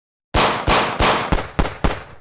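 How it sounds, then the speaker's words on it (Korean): Six sharp gunshots fire one after another at a steady pace, each a loud broadband crack with a short decaying tail, the burst starting abruptly out of silence. "뒤이어 연달아 총성이 들린다"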